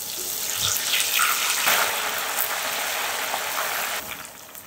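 Masoor daal frying in hot oil for nimko gives a steady, dense, hissing bubble that runs continuously at moderate loudness, with a few brief scrapes of a stirring spoon; no one speaks.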